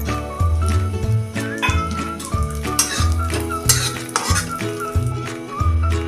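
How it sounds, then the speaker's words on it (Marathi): Cashews and almonds roasting in a little ghee in a pan for moong dal laddoos, with steady sizzling under repeated sharp scrapes and stirs of a spoon against the metal pan, close and fairly loud. "हे ड्रायफ्रूट्स आपण आता ह्याच्यात भाजून घेऊया"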